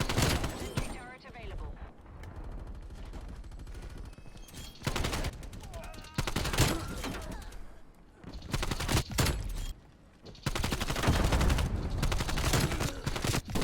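Bursts of AK-74u automatic gunfire in a Call of Duty Cold War match, several loud rattling volleys separated by brief pauses, with game effects and speech mixed in.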